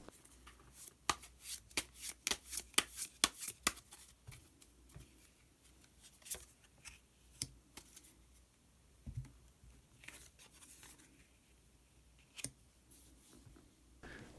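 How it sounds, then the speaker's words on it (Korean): Tarot cards being shuffled by hand, a quick run of crisp riffling clicks up close, then sparser soft taps and slides, faint and without talk. "카드 한 장을 더 뽑고 이야기 계속 나오도록 하겠습니다"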